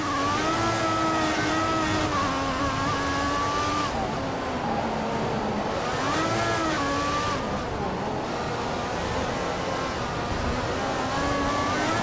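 A Formula 1 race car in the F1 2014 video game screams at full revs through the Spain round, a steady high-pitched engine whine that swoops up and down with gear changes, loud and continuous throughout.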